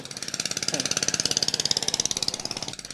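Mining equipment runs near the Enuru River, its engine thumping in a fast, even rhythm that stays close and steady for the full stretch, with a brief voice in the middle.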